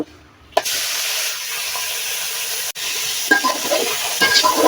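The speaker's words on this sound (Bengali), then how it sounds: "ফুলকপিটা হালকা ভেজে নিচ্ছি।" Cauliflower frying lightly in oil in a pan, a steady loud sizzle and hiss that starts abruptly and runs continuously, with occasional stirring scrapes and crackles.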